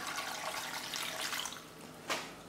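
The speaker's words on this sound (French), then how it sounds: "On va mettre les 2 litres de bouillon de veau," Two litres of cold veal stock pour into a cooking pot with a soft, continuous liquid rush and a brief splash near the end, quiet and close.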